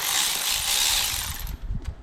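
A hand wrench ratchets rapidly while a brace is being removed from a Scion tC during a clutch replacement. A dense, steady rasp runs close up for about a second and a half, then gives way to a few low knocks and clunks.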